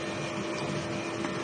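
A DTF printer running in a print shop in Dumaguete gives a steady mechanical hum and whir, unbroken through the whole short stretch with no voices.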